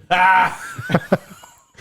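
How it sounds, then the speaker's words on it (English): A forced, fake-sounding cough from a podcast host, one strong voiced burst followed by a couple of short chuckle-like huffs, close to the microphone. "Cough, cough."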